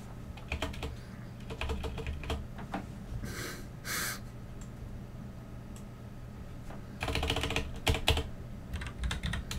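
Rapid clicking of computer keyboard keys in irregular bursts, close and fairly quiet, with pauses between runs of typing.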